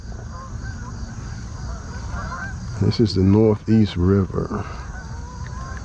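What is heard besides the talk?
geese honking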